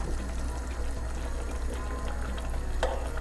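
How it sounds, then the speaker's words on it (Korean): Tofu and seaweed soup bubbles steadily in a pot, a continuous close, dense simmering hiss with a small clink near the end and no voices. "아주 보글보글 맛있게 끓었습니다."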